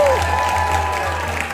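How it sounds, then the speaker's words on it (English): Audience applause on the Disney Destiny cruise ship greets the unveiling of a royal portrait: a steady, dense wash of clapping held close and loud for the whole moment, over a low hum. "Everyone applaud!"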